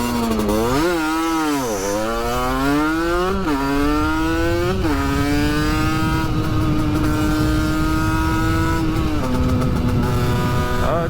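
A Doppler Vortex moped with a 16 mm carburetor revs hard up close, its buzzing two-stroke pitch rising and dipping through several throttle blips before settling into a sustained high whine.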